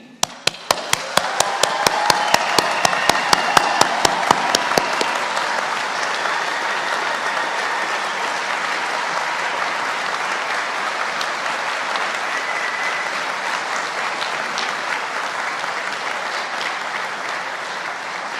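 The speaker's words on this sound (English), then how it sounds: "give a huge round of applause for everyone in this room" Applause at a university summer graduation ceremony, opening with a few sharp, loud individual claps that quickly swell into sustained dense clapping from a large room, continuing steadily to the end.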